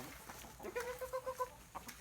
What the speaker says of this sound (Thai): อันนี้ก็เป็นไก่ของผมนะผม